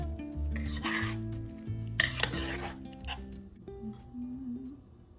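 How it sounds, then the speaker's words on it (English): Bacon ranch potatoes and green beans stirred in a slow cooker, with scraping and clinking of a utensil against the pot over a music bed. One louder clatter comes midway. "Give everything a good stir."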